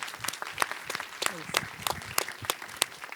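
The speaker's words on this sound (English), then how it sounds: "Please give a warm round of applause or welcome to our panelists." A conference audience applauds as panelists are welcomed, crisp individual claps sounding in a fairly sparse, uneven rhythm nearby, with some talk underneath.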